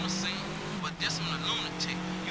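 A car engine roars steadily in the Midnight Club 3: Dub Edition street racing video game, a sustained loud drone with someone talking over it throughout.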